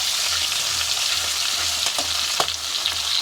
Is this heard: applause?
no